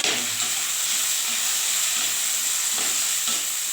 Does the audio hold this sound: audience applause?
no